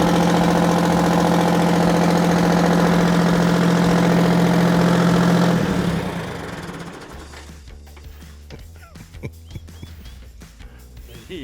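A vintage tractor engine running loudly with a steady knocking drone, then cutting out to leave quiet scattered clicks and knocks.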